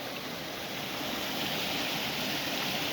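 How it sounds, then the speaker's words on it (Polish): A small waterfall on the Gilówka stream in Poland, built by beavers, gives off a continuous broadband rushing roar. It is close and steady throughout, with no voices. "Słychać wodospad, słychać jego szum"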